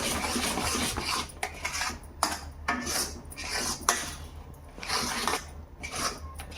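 Spoon scraping and clinking around a bowl while a puffed rice laddu mixture is stirred with nutmeg and cardamom powder, a steady near rubbing broken by several sharper metallic taps, with no talking.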